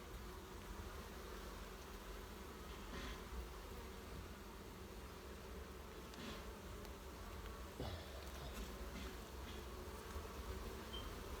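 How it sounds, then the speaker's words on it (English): Honeybees hum in an open hive during an inspection, a faint, even drone with occasional closer buzzes passing by, and no talking. "So it is a busy colony and it's a productive colony."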